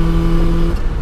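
A 1989 Rover Mini with a four-speed gearbox, engine revving hard under load while driving, a loud sustained buzzing drone that drops off near the end as the revs fall for a gear change.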